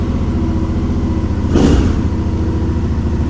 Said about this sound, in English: Now let's turn on the engine.